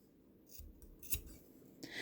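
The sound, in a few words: scissors cutting crochet yarn ends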